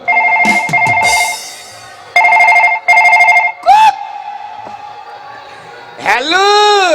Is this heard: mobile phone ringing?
yes